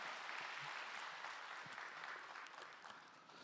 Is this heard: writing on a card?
no